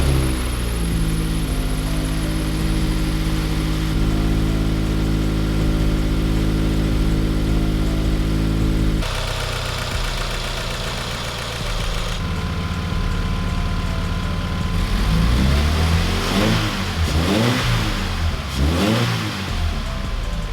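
A car engine runs steadily at idle, then is revved repeatedly in rising and falling surges, loud and close, while an alternator is being tested.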